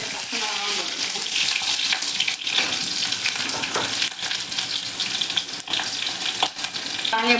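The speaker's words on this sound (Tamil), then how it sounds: "வெங்காயமும் 2 பச்சை மிளகாவும் போட்டுருக்கேன்." Onion and two green chillies fry in oil over popped mustard seeds and urad dal, giving a loud, busy sizzle with scattered sharp pops and stirring scrapes throughout.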